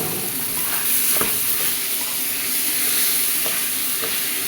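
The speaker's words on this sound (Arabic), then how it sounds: "حطينا زيت، حطينا شويه رز، حمرهم يحمروا زي الشعريه كده" Rice grains frying in hot oil in a pot, giving a steady, loud sizzle with soft crackles and the occasional stirring scrape, heard alone without any talk.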